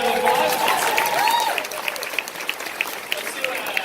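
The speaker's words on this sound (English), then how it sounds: "We got a quick round of applause" An audience at a workplace collaboration event gives a short burst of clapping, loud at first and thinning into scattered claps, with voices talking over it.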